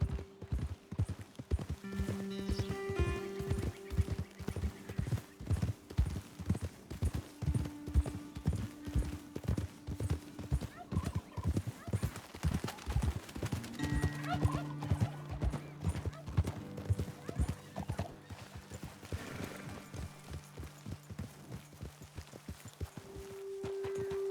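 Horse hooves clip-clop steadily through much of the scene in Red Dead Redemption 2, loud and rhythmic with several horses, an occasional neigh or whinny rising over the footfalls, then slowing toward a halt.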